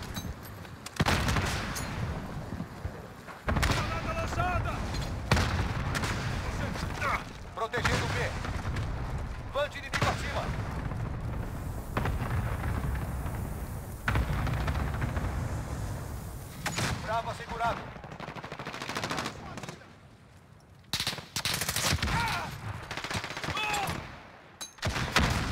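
Near-constant gunfire crackles through a Call of Duty Modern Warfare multiplayer match, with bursts and heavy shots stacking up and only brief lulls, while voices talk over the shooting.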